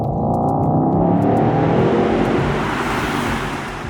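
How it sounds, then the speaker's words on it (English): Mercedes-AMG GT 63 Pro with a 617-horsepower 4-liter V8 driving through an empty tunnel, the engine roaring loud and close for the whole stretch with a rich, steady drone and strong echo, easing slightly toward the end. "An empty tunnel with no other vehicles inside is the ideal setting to hear the 4-liter V8 sing."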